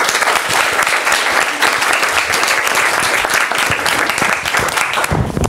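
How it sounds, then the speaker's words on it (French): An audience at a talk on the conflict in the Democratic Republic of the Congo breaks into steady, dense applause that carries on loud and unbroken for several seconds. "Je vous demanderai d'applaudir cordialement Madame Silvia Fontana."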